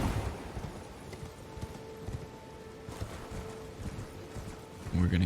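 A horse gallops across open ground in Elden Ring, its hooves keeping a steady, rhythmic clip-clop throughout at moderate loudness, with a brief heavier thump at the end.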